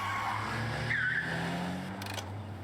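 A car skids with a rising tire squeal over a steady engine drone, the screech sweeping up briefly before the approach continues, heard at moderate distance with no talk.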